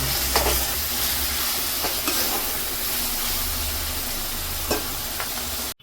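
Ground paste is poured into mutton chukka and stirred in a pan, giving a steady loud sizzle with faint scraping stirs and no voices.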